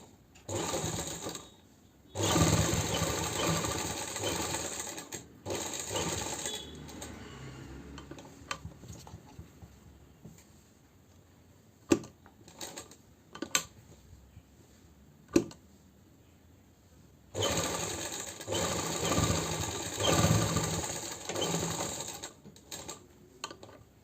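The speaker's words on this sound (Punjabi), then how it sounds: "ਮੈਂ ਜਿਹੜਾ ਕੱਟ ਪਾਇਆ ਸੀ ਉਹਦੇ ਨਾਲ ਨਾਲ ਸਿਲਾਈ ਲਾਉਂਗੀ" A sewing machine stitching along the cut collar of a kurti runs in loud, close, steady bursts, with quiet clicks and handling noises between the runs.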